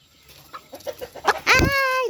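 A chicken jumps and flaps its wings nearby, giving a few soft scuffs and clucks before a loud burst of flapping and a squawking cry, with no talking.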